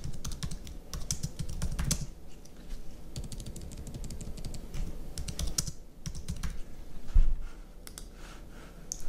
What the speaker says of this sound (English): here you just type your company name